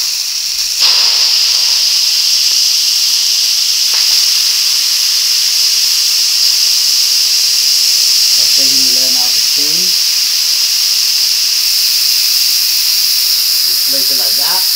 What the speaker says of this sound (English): it's going to let out all the steam so we can open the lid